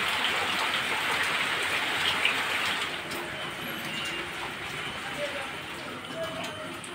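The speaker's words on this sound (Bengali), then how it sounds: "দেখো বৃষ্টি ভিজতে ভিজতে কোথায় এসে বসছি।" Outdoor rain falls steadily, a dense even hiss of drops on surfaces that eases slightly partway through, with a few faint clinks in the background.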